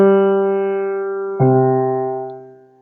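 A simple partimento bass line played as sustained, organ-like low tones: one held note, then a second entering about halfway through, both ringing steadily before fading out at the end.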